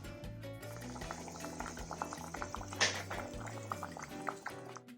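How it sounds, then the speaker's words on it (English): Mixed vegetables for avial boiling in a pot of water, with a soft steady bubbling and occasional pops, fairly faint and close, over a low hum, with no talking. "The hard vegetables are kind of just beginning to cook."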